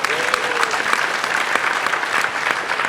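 Audience applause for a former prosecutor introduced as a guest at an NBA and WNBA players union dialogue, a loud, continuous round of clapping with a brief stray tone early on, sustained evenly throughout.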